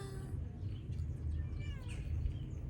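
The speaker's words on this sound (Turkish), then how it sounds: "Aa kediler var." Several cats mew in short, thin calls outdoors by a lakeside village, fairly faint against a steady wind-like rumble.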